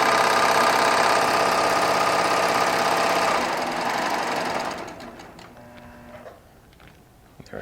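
A Baby Lock Triumph serger runs loud and steady with its upper looper thread snipped, the motor whirring continuously for about five seconds before winding down and stopping, leaving faint clicks and quiet handling.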